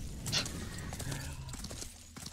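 Hooves of a horse mount clop in a steady walking rhythm in the game Sacred 2, fairly close and moderately loud over a busy game ambience.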